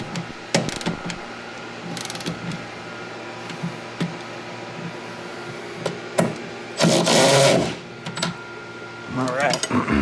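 A hand ratchet tightens bolts during a catch can install on a 2023 Honda Civic Type R, with short bursts of rapid clicking near the mic, pauses in between and light clanks of tools.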